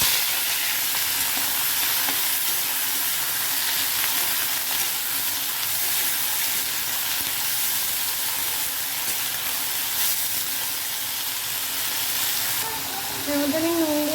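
Loud, steady sizzling of chopped Malabar spinach stems frying in hot oil with nigella seeds and dried chillies, as continuous crackling hiss with occasional stirring.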